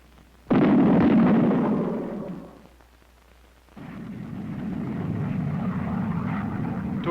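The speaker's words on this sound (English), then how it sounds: "an aircraft flying at a steady speed above Mach 1, either transonic or," A supersonic aircraft flying at steady speed above Mach 1 gives a loud, sudden roaring burst that swells, fades into a lull, then returns as a sustained broad rumble, with no voices.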